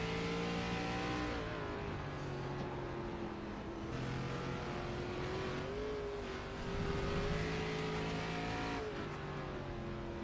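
A racing car engine on the uphill section at Lime Rock Park drones loudly, its pitch sagging as the driver lifts off the throttle and then climbing again, sustained and close with no talk.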